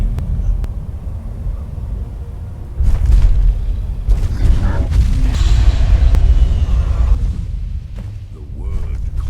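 A deep, roaring Thu'um shout from a Greybeard in Skyrim, a booming rumble that swells suddenly and holds for several seconds before fading, loud and close.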